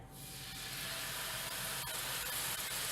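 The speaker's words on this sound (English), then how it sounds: "There's that sizzle." Pork tenderloin sizzling loudly in olive oil in a hot pan, a steady bright hiss that holds on without a break.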